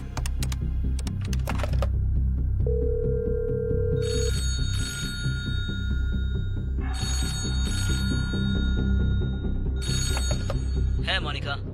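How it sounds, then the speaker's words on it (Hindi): A telephone rings in repeated bright bursts during a game-show challenge, three separate rings spread across the stretch over steady music and background noise. "फोन कॉल्स शुरू होने दो।"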